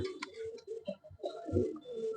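Soft, low cooing of Baghdadi and black racer pigeons in a few short rounded bursts, close by, with faint chirpy bird sounds above and no talking.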